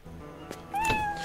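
A single dubbed cat meow added to a movie scene, a short rising, clear, close meow heard alone over a quiet background.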